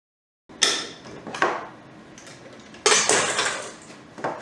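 Ice rattles and crunches in a retro manual ice crusher, with a few loud bursts of clattering against hard surfaces separated by quieter, steady grinding, close up.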